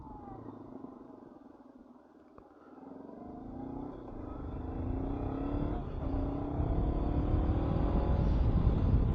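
Honda CB500X motorcycle engine while riding, climbing in pitch as it accelerates and growing steadily louder over a low road and wind rumble.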